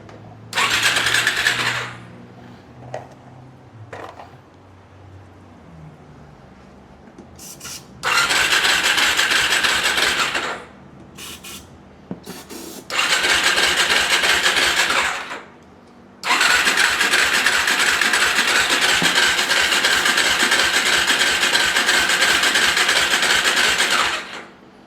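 Starter on a Suzuki LTZ 400 ATV cranks in several separate bursts of a few seconds each, the last one long and steady, loud and close, with quiet gaps between attempts and no talk.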